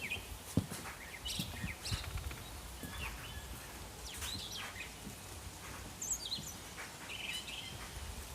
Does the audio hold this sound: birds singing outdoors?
yes